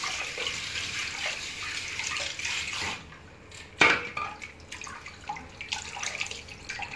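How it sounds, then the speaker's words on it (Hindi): Plain water runs and splashes as a hair wig is rinsed to clear out shampoo, a steady wash of watery noise with one sharper splash midway and no talking. "थोड़ा सा वॉश कर लीजिए सादा पानी से, ताकि शैम्पू पूरा क्लियर हो जाए।"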